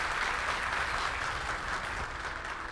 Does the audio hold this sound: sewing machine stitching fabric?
no